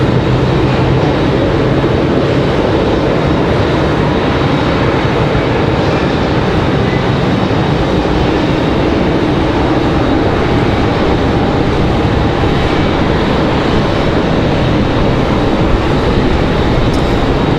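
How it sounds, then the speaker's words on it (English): An American Airlines Airbus A321 jet takes off at Raleigh-Durham International Airport, its engines a loud, continuous, broadband roar that holds steady throughout with no talking. "So that is American Airlines 2704 headed to Charlotte, North Carolina. That A321 at 200."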